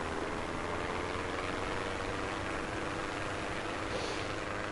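Steady, loud engine and wind roar of a winged aircraft taking off in Trailmakers, a continuous broadband drone without speech.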